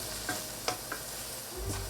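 A flour mixture being stirred in a pan for a homemade mushroom gravy: a few quiet scraping strokes over a faint, low sizzle, close by and brief.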